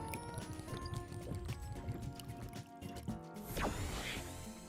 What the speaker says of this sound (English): Now all that's left to do is to actually put in some oil.